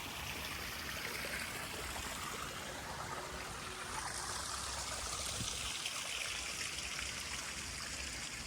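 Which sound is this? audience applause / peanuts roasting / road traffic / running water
running water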